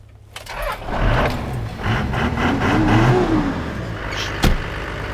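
A Toyota Landcruiser HJ47 with a 12HT diesel engine revs hard, a loud, close, truck-like roar that climbs and holds through several seconds, ending with a brief clunk.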